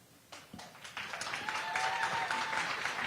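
Applause at a school committee public hearing swells from scattered first claps into a steady, dense patter of many hands that keeps building and holds at a moderate level through the end, with no talking.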